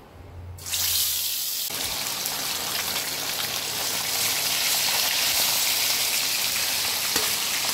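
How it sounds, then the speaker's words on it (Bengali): Salted turmeric-coated fish dropped into hot oil bursts into a loud, dense, continuous sizzle that holds steady for several seconds, close up with no speech. "আমার তেল গরম হয়ে গেছে, তো আমি একে ভাজবো।"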